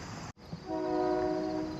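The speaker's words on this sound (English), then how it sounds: "train's coming" An approaching train sounds its horn in a steady sustained multi-tone blast after a brief rumble, heard outdoors at a street crossing near a marsh walk, fairly loud and without voices.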